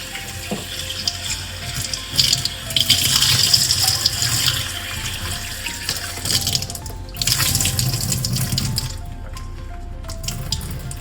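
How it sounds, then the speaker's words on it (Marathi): Tap water runs steadily into a sink as small pieces of tuna (kupa) are rinsed, giving a continuous rushing splash that swells and eases with handling, with no voices. "स्वच्छ पाण्याने धुवून घेऊया."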